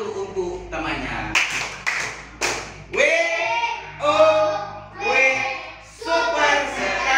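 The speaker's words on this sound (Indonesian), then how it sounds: "Kita kasih tepuk tangan dulu untuk temannya." Students in a primary school classroom clap in short rhythmic bursts for a classmate, their voices chanting along between the claps.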